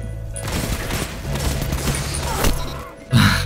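Submachine-gun fire in the sci-fi shooter Destiny 2 during a player-versus-player match, with rapid bursts of shots and impacts crackling through dense game noise, then a heavier thump near the end.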